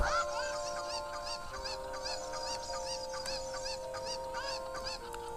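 A hen gives repeated clucks and honking calls in a steady series, fairly close and clear above a faint background hum, with no voices.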